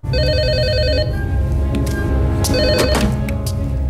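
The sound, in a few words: telephone ringing in a film clip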